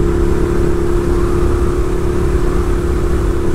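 A Ducati 1098 Streetfighter motorcycle rides slowly, its engine a loud, steady, close low drone with a constant mid-pitch hum, wind noise and no talk.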